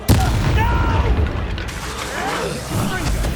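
A Confringo fire spell detonates in Hogwarts Legacy during a duel, a heavy booming blast with crackling debris over a dense wash of combat noise, while a voice shouts spell names.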